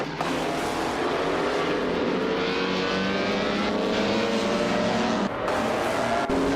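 Race cars in a video game race roar at full throttle, several engines whining and rising in pitch as they run nose to tail, loud and continuous with a brief dip near the end.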